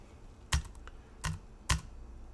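Three separate, fairly loud keystrokes on a computer keyboard, spaced unevenly with no talking.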